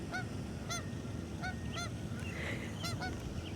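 Geese honk repeatedly in a loose rhythm, their calls clear and fairly close over a steady low outdoor rumble, with several birds overlapping at times.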